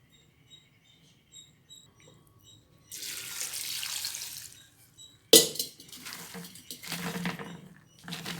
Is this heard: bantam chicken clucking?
no